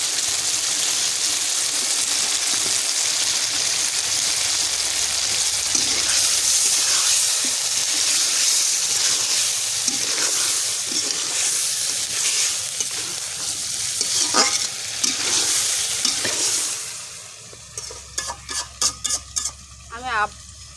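Washed sea fish dropped into hot oil in a village kitchen, giving a loud, steady hiss and sizzle with scattered stirring knocks. The sizzle fades toward the end, leaving a few sharp taps.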